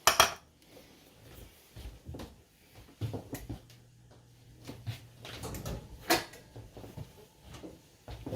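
A dish of shirred eggs with cheese going into the oven in a kitchen, with soft clinks of cookware, a few knocks and a rack or oven door sliding, faint and intermittent.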